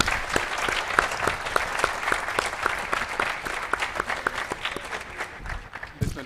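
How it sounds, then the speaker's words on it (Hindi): Audience applause in a hall at an event, steady rhythmic clapping sustained throughout and fairly close, with a voice faintly present underneath. "और मुजीब साहब के लिए एक भी ताली नहीं बजा रहे आप लोग।"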